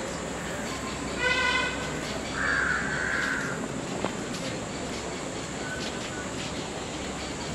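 Crows caw out of doors at a Mysore tourist spot, a few harsh calls rising over steady wind-like noise and faint background voices.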